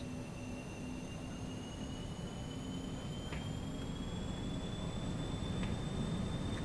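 Airliner jet engines spooling to takeoff thrust in a flight simulator, a steady, whining roar with rising high-pitched tones, moderate and constant with no talk over it.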